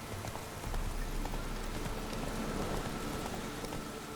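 Steady rain falls and patters on surfaces in the video game The Witcher 3, a dense constant hiss with faint hoofbeats beneath it.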